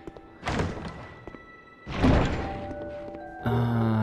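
A treasure chest opening in Dark Souls 2, with two heavy wooden thunks about a second and a half apart, each trailing into a creaking rumble, then a bright tonal chime.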